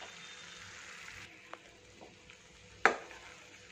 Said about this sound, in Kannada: ಮಸಾಲೆ ಜೊತೆಗೆ ಆ ಸೊಪ್ಪನ್ನ ಸ್ವಲ್ಪ ಚೆನ್ನಾಗಿ ಮಿಕ್ಸ್ ಮಾಡ್ಕೊಳ್ಳೋಣ